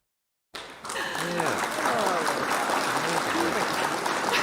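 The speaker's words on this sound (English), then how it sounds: "Hit the clap button again." After a moment of silence, a burst of applause starts and continues steadily, with cheering voices mixed into the clapping.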